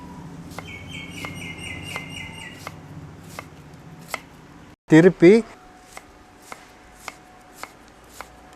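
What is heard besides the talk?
knife chopping onion finely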